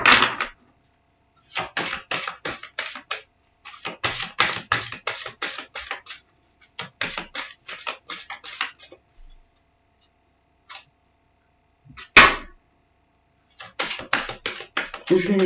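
Tarot cards riffled and tapped in repeated quick bursts of crisp papery clicks, about four flurries separated by brief silences, close to the microphone, with one sharper snap near the end.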